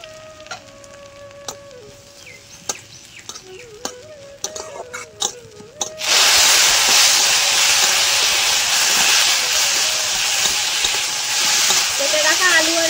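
Dried neem flowers and black cumin frying in hot oil: a quiet stretch of scattered small sounds, then a loud, steady sizzle that starts abruptly midway and holds to the end.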